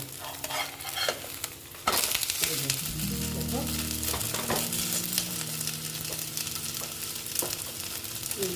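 Stuffed flatbread of atta and maida frying in a little oil on a pan, a soft continuous sizzle with a louder burst of spatula scraping partway through and occasional light clinks, and nobody talking.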